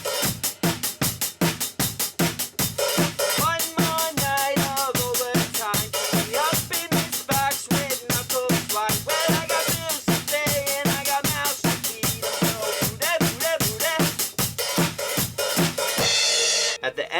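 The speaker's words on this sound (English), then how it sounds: "The drum beat is pretty straightforward. Again, 4 on the floor. It's a hi-hat open on the and" Straightforward four-on-the-floor rock drum beat with an open hi-hat on the offbeats, steady punchy kicks driving evenly throughout with a bright cymbal wash, played alone without talk.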